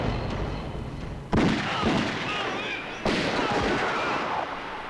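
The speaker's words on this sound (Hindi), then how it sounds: "तुमने हम पर गोलियां चलाई," Two sharp gunshots, the first about a second in and the second a few seconds later, each followed by a lingering rumbling echo.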